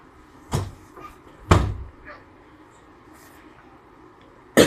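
A door in a home bangs shut with a dull thud, followed by a second louder closing thump a second later and a sharp knock at the end, in a quiet room with no talking.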